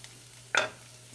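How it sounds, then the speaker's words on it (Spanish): Onion and vegetables hit hot olive oil in a pan, giving one brief burst of sizzling that quickly fades back into a quiet room with a low steady hum. "Vamos a saltear los vegetales."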